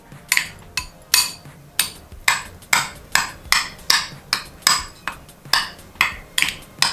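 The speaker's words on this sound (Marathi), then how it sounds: "मी असा थोडा त्या चमच्यानेच बारीक करते" A metal spoon mashes boiled potato in a bowl for a Marathi batatyache bharit, giving about a dozen sharp, evenly spaced taps and scrapes, close and clear, with no talk.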